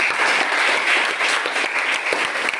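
Schoolchildren in a classroom clap their hands together in a brief, dense burst of applause that stays loud and steady throughout.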